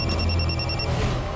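A telephone rings with a brief run of repeated electronic tones that stop partway through, over a low background hum.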